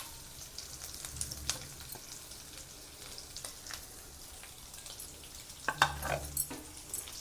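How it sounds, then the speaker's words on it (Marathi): Stuffed okra fries in oil in a pan, making a faint, crackling sizzle with scattered sharp pops and a few louder clattering bursts. No one speaks. "आपण ही भरलेली भेंडी आपण त्यामध्ये सोडून घेऊया तेलामध्ये।"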